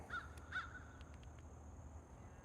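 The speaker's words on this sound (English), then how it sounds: "So even the crows know you're full of it and they're mocking you." Crows cawing outdoors, two or three quick harsh calls close together at the start, fairly faint over a steady background hiss with a few distant clicks.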